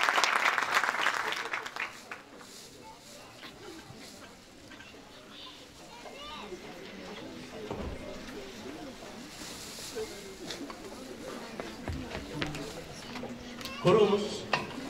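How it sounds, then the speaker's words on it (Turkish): A concert audience claps for performers at a Turkish folk music choir concert, with the applause strong at first, then thinning into scattered claps and murmurs before swelling again briefly near the end. "hepsine alkışlarınızla sahneden uğurlamak istiyorum"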